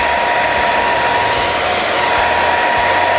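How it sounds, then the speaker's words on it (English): A hair dryer blows hot air onto vinyl on a car dashboard, with a loud, steady, unbroken whoosh and motor hum throughout. "take the hair dryer"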